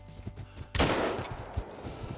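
A single loud rifle shot rings out while hunting big game in Africa in Call of the Wild, a sharp crack near 0.8 seconds with a long rolling echo fading behind it over faint ambient background.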